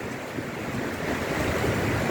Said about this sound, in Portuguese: O vento está forte,